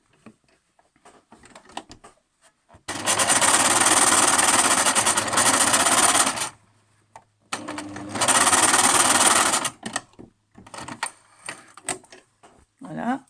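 A sewing machine stitching fabric, two loud sustained close runs of rapid needle clatter separated by pauses, with soft handling noises and some talking around them.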